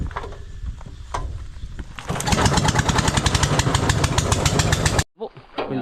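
A farm engine, freshly serviced with new oil, starts up after about two seconds of quiet and runs loud with a steady knocking rhythm before cutting out abruptly, followed by a brief lower hum.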